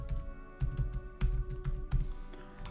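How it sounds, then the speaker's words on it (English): Keys clatter on a computer keyboard as a mobile number is entered into a CRM form, a quick run of close, crisp taps in short bursts with no talking. "You can type the mobile number here once more."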